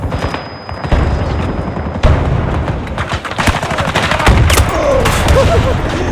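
A Battlefield 2042 firefight, with dense, loud bursts of gunfire and heavy booms from explosions overlapping continuously, plus faint voices in the chaos.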